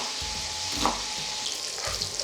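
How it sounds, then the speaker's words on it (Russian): Bacon sizzling and frying in a pan for a breakfast frittata, a steady close crackle with brief louder spits, no talking. "Бекон мы слегка поджариваем"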